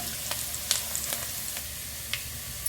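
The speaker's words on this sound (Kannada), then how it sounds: "ಈಗ ಒಣ ಮೆಣಸಿಕಾಯಿ ಹಾಕೊತಿದ್ದೀನಿ" Broken dry red chillies frying in hot oil for a sambar with ivy gourd, a constant soft sizzle with occasional sharp pops and light stirring scrapes, close and alone.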